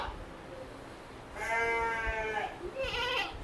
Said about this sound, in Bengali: এখানে অল্প কিছু ছাগল আছে।